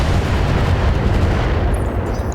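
Mech weapons fire in the BattleTech video game: a dense, roaring burst of explosive blasts and rumbling impacts that stays loud and continuous across the short stretch, with no voices.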